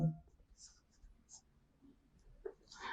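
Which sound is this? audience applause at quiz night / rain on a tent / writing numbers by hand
writing numbers by hand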